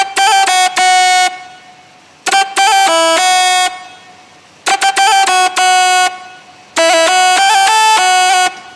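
A dry, unprocessed synth melody from a remix plays in bright, bouncy bursts of short repeated notes, loud and close, separated by brief gaps.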